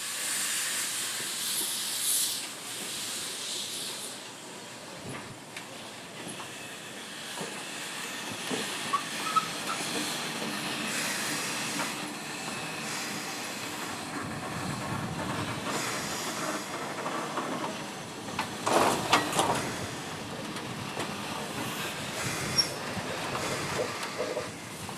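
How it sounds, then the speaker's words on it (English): A steam locomotive backs slowly over the ash pit with continuous hissing steam and low mechanical rumble, plus a few louder bursts and clanks toward the end. "Then the locomotive is backed over the ash pit."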